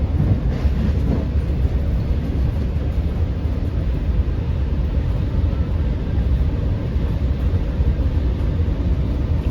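A Long Island Rail Road commuter train runs along the Main Line track near Westbury, heard from on board as a steady, loud low rumble of wheels and running gear that continues throughout without talk.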